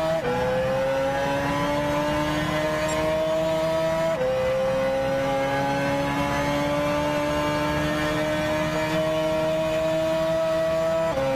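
A Lancia rally car in Gran Turismo 6 howls at full throttle on a mountain climb, its loud steady engine note rising through the gears with one sharp shift dip, continuous and close, with no talk over it.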